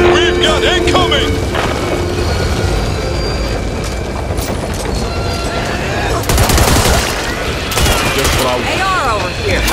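Heavy, loud gunfire fills a Back 4 Blood game fight, with dense overlapping bursts and booms running the whole time and shouted voices over the din.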